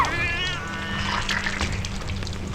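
A cat meows in a drawn-out, wavering cry, fairly close, over a low steady background hum.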